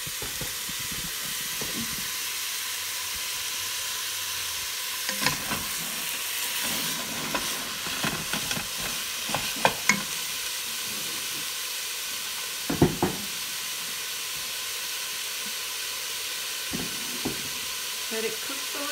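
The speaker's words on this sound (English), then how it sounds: "Meat is cooking." Meat for a spaghetti sauce sizzles in a pan with a steady frying hiss, broken by occasional scrapes and stirring knocks as it is moved around.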